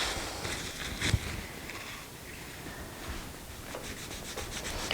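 Paintbrush scrubbing acrylic paint back and forth over a canvas, a steady close rasping rub that carries on through the whole stretch with a few sharper strokes.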